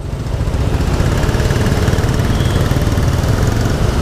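Motorcycle engine running steadily up close during a morning ride behind another rider's motorcycle toward the traditional village of Cireunde in Cimahi, a continuous low droning rumble with no pauses.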